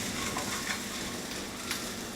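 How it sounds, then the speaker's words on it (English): Scrambled egg scraped around a hot frying pan while making fried rice: a dense, continuous sizzle and rustle of frying with faint scraping movement throughout, close up and without speech. "Just scraping the egg away."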